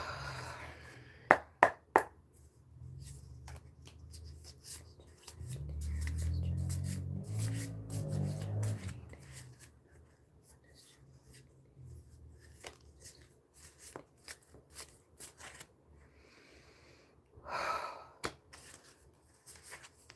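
Quiet, scattered handling noises: a few sharp snaps early, then soft rustling and riffling like cards being shuffled, with intermittent taps.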